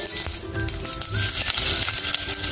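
Dense crackling and popping of mustard seeds and cumin spluttering in hot oil, rapid and irregular over a steady sizzle, close up.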